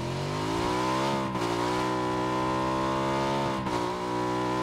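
A vehicle engine in the PUBG video game drones loud and close, its pitch rising as it revs and approaches, dipping briefly twice with a shift in tone, with no one speaking over it.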